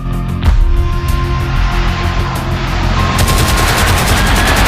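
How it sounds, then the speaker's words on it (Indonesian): Rapid, relentless machine-gun fire from Dutch aircraft rattles on loudly over a deep rumbling of bombs exploding, forming one continuous, dense wall of battle noise. "setelah dihujani bom dan tembakan mitraliur oleh pesawat terbang Belanda"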